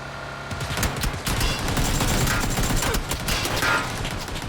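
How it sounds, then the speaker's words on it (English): Rapid video-game gunfire from enemy players firing back from a tree position, a dense continuous crackle of overlapping shots and bursts filling the whole stretch at steady loudness, with no talk. "they stop up here at the tree and start shooting back"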